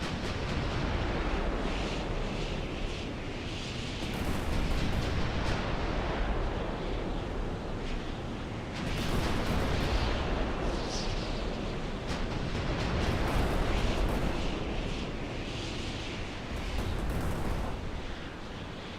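Artillery bombarding a turret emplacement in the Carrier Command 2 video game, a dense, continuous roar of booming blasts that swells and fades in waves, loud and sustained with no talking.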